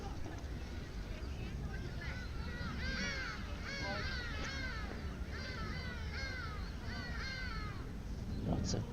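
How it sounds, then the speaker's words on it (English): Crows in nearby trees caw in repeated bursts over steady outdoor background noise and distant babble, with calls clustering and overlapping through the middle of the stretch. "Lots of birds around."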